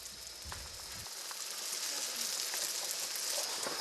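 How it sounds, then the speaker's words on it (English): Bread frying in oil at a Turkish farmhouse near Pamukkale gives a continuous, close bright sizzle with a few crackles and pops early on. "I find an old woman frying bread"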